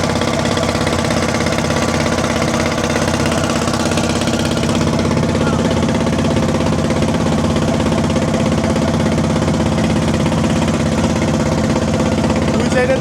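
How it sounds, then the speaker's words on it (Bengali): A trawler boat's engine runs at a steady, loud, unbroken drone with a rhythmic knocking beat as the boat travels a river channel between chars near Barisal. "বন্ধুরা দেখছেন যে যাচ্ছি ট্রলারে করে, চর ঘুরতেছি"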